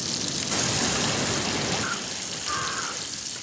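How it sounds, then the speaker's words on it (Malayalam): Water poured into a container while cooking fish, a loud, continuous rushing splash that stays strong for the whole stretch and fades slightly at the end. "വെള്ളം ഒഴിച്ച അമ്മായി ഇതിനകത്തേക്ക്."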